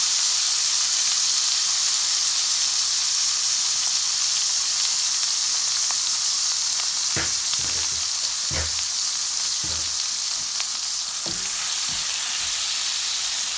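Garlic-ginger paste frying in a hot pan for potato and pea rice, a steady broadband sizzle with a few sharper spits and pops in the later seconds, close and continuous with no talking.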